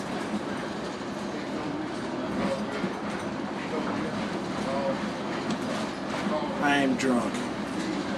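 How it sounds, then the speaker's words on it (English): Train rolling along the rails, a steady rumble with faint clickety-clack and a brief wheel squeal near the end, under people talking loudly in a crowded carriage on the way to a Red Sox game. "So, we are on the train."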